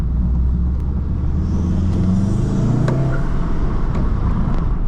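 A 2018 VW Golf R engine revs and builds turbo boost, a loud, steady car drone rising in pitch with a couple of brief sharp transients, heard close with no talking.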